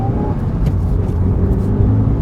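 A worn Mitsubishi EVO5 on a road test, its engine a loud close rumble as it pulls under acceleration, with no voices.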